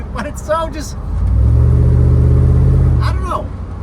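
An older truck fitted with long tube headers and a custom exhaust dumped at the rear axle gives a loud, close, low rumbling rev that swells and holds for a couple of seconds between short bits of talk.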